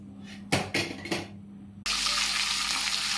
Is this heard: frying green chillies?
yes